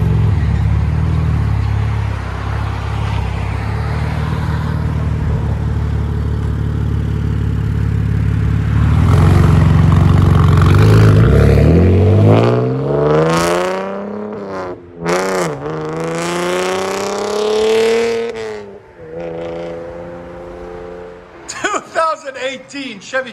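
A 2020 Chevy Camaro RS with a 3.6L V6 and aftermarket exhaust rumbles loudly, then revs repeatedly in rising and falling sweeps. Speech runs over the opening stretch.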